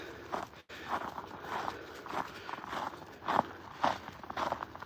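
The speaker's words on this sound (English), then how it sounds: "I hope the sound of the footsteps is coming through on the audio" Footsteps crunch through snow at an even walking pace, fairly quiet and close, each step a soft compressed crunch.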